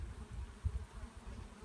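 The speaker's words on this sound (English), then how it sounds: "Excuse us, bees. Very excited." Honey bees buzz in a low, steady hum close by as a late-summer hive is opened and its frames inspected, with no talking.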